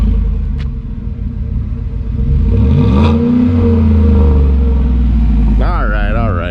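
A 2004 Kenworth W900L truck with a C-15 CAT engine idles with a deep rumble, then revs up hard midway and holds a loud, rising roar before easing off, with people talking nearby.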